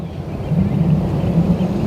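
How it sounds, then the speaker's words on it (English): The ship Pacific passes on the Westerschelde with a low, rumbling engine drone that swells slightly as if revving, steady and fairly loud over light wind noise. "She's making like a revving noise almost."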